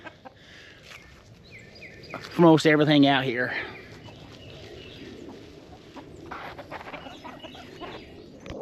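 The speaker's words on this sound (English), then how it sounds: "I got a French Black Copper Maran rooster with the red leg band" A French Black Copper Marans rooster lets out a loud, harmonic call of about a second and a half at close range, framed by someone talking outdoors.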